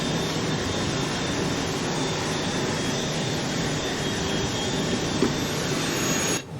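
A private jet's engines run steadily in Microsoft Flight Simulator, a loud, constant broadband roar with a thin high whine on top, unchanging until a brief dip and click at the very end.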